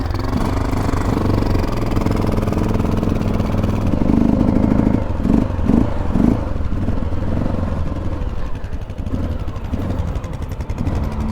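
Motorcycle engine running on choke while it warms up, close and steady, with a brief uneven stretch of sputtering pulses midway before settling back into a rough idle.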